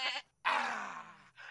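A person imitates a goat's bleat. There is a short nasal cry, then a longer wavering bleat, then a brief third one, all close and alone.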